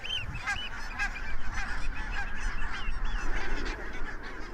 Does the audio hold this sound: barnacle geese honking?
yes